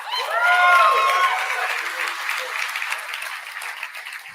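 A live-event audience applauding, dense clapping from a crowd that swells early and then gradually fades, with a brief voice at the start.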